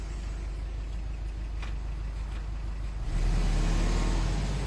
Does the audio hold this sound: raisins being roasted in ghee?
no